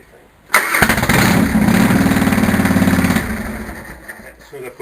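Harley-Davidson Fatboy motorcycle cranks from cold and catches, a loud rough churning crank that builds into a brief running burst, then fades to a lower sputter, close by.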